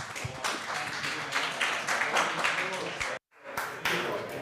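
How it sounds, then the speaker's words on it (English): An audience at a conference applauds, a dense burst of clapping from a crowd that stops abruptly, then resumes briefly. "Everybody, round of applause."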